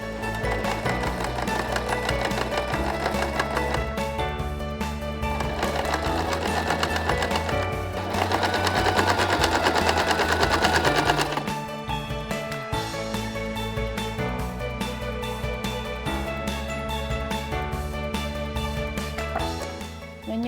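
A sewing machine running a straight stitch, a steady rapid mechanical chatter that continues for about twenty seconds, growing slightly louder and busier in the middle, close up with little or no talking.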